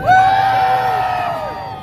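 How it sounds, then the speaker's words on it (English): A street-show crowd screams and cheers loudly in a burst of whoops and yells, with a shrill sustained scream riding over the roar before it gradually tapers off. "Everybody scream!"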